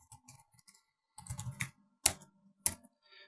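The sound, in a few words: typing code on a computer keyboard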